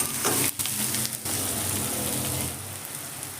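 Onions and a handful of curry leaves sizzle in hot oil in a pan, a loud, dense crackle with a few scraping stirs early on, then an even frying hiss. Nobody speaks.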